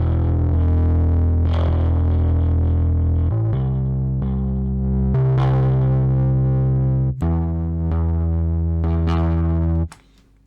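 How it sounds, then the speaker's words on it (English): A gritty, distorted bass synth plays a sequence of sustained low notes, loud and upfront with a buzzing, saturated edge. "Our bass needs grit and distortion."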